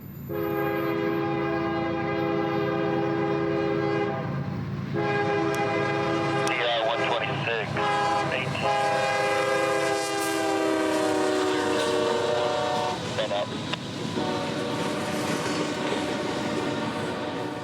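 CSX freight train I-126 coasts down Doctortown Hill into town, sounding its multi-chime horn in long, loud blasts over the rumble and clatter of passing cars, close by and continuous throughout.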